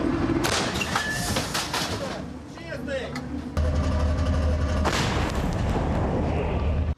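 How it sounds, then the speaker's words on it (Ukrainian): Heavy artillery fires in a few deep, thudding blasts, with voices talking and a rumbling engine underneath. "Від пострілів земля здригається, бійці швидко перезаряджаються"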